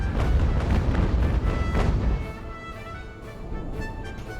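Warship cannon fire in the Ultimate Admiral: Age of Sail video game during the Battle of Copenhagen, heavy rumbling booms rolling together for two seconds, then fading into a quieter lingering rumble.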